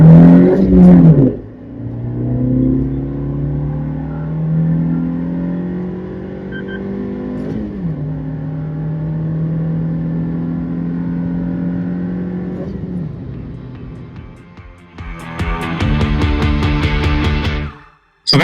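A Suzuki Jimny with its stock air filter and traction control on accelerates hard from 0 to 100 km/h, its engine rising in pitch through several gear changes, loud and close inside the cabin, then easing off near the end.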